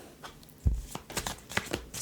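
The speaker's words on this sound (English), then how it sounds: "I feel like I should shuffle again." Deck of tarot cards being shuffled by hand, soft quiet riffles and taps in irregular bursts with a light thump near the start, close and alone.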